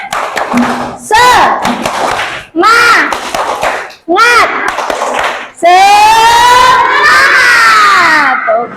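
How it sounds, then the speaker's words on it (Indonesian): A classroom of students in a math lesson performing a rhythmic spirit clap chant, sharp claps alternating with loud voiced chanting that swells into sustained shouting, close and energetic. "Oke, yuk tepuk semangat."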